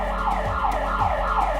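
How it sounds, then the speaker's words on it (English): An emergency siren at a workplace site wails loud and steady, with its pitch sweeping up and down in repeating cycles roughly every half second, with no talk over it. "if you hear either an emergency siren"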